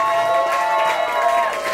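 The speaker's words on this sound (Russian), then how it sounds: "Аплодисменты громче нашим учителям." A crowd at a school graduation party in a café applauds and cheers for the teachers in a brief, loud, continuous burst with music underneath.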